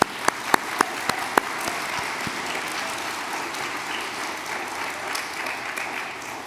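Congregation at a Unitarian Universalist Sunday service applauds, several sharp close claps at first giving way to steady, moderate crowd clapping that continues to the end.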